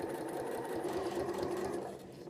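A low shank sewing machine stitching quilting lines along a ruler template, a fast, steady mechanical needle chatter and motor hum running close, easing slightly at the end.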